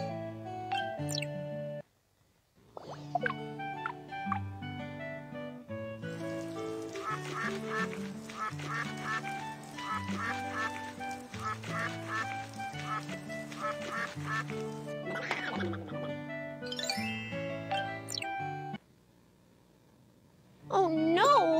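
A cartoon duck in a baby panda pet care video game quacks again and again over bouncy game music and sound effects, with a short silent gap near the start and a longer quiet stretch near the end.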